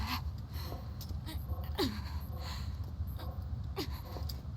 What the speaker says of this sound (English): The fact that she's panting and grunting.